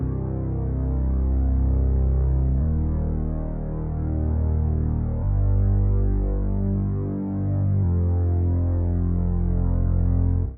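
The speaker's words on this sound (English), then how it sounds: "With a low bass. I made it in Serum." A deep, heavily filtered Serum synth bass with EQ drones with a throbbing low tone, changing note every few seconds, warm and muffled with the highs rolled off.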